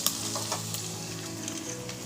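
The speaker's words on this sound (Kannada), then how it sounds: "ಈ ಒಗ್ಗರಣೆಗೆ ಸಾಸಿವೆ, ಜೀರಿಗೆ, ಕರಿಬೇವು ಮತ್ತು ಹಸಿಮೆಣಸಿನ್ಕಾಯಿ, ಈರುಳ್ಳಿ 4 ಹಾಕಿ ಒಂದು ಬಾಣಲೆಗೆ ಎಣ್ಣೆ ಹಾಕ್ಕೊಂಡು ಫ್ರೈ ಮಾಡ್ಕೊಂಡಿದ್ದೀನಿ" Mustard seeds, cumin, curry leaves, green chilli and onion sizzle in hot oil in a pan for a dal khichdi tempering, a steady close crackle with a few sharper pops and some stirring, no voices.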